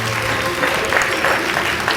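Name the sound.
audience applause for a comedian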